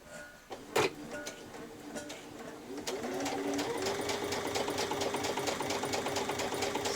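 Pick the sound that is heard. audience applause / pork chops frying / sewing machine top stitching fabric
sewing machine top stitching fabric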